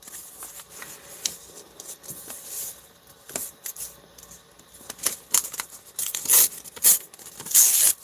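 Paper pages are ripped by hand for a craft project in a series of sharp, close tears and crinkles at an irregular pace, growing louder and more frequent toward the end.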